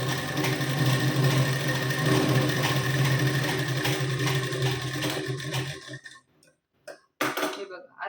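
A sewing machine runs steadily for about six seconds while stitching a blouse strip at half an inch, close and fairly loud, then stops and gives a couple of brief restarts.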